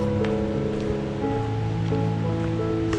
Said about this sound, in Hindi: बट आवाज़ तो आ रही है पानी की।